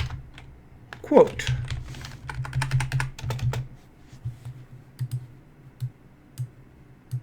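Someone types on a computer keyboard up close, producing a dense run of rapid key clicks that thins into scattered single taps, with a voice speaking over part of it.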